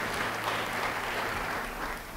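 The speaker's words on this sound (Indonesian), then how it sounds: "Yang percaya beri tepuk tangan bagi dia." A church congregation applauds steadily, a dense wash of clapping that holds at an even level throughout before easing slightly at the end.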